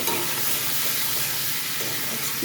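Ridge gourd and potato with green chilli, salt and turmeric stirred in a frying pan, giving a steady close sizzle and hiss with soft scraping throughout.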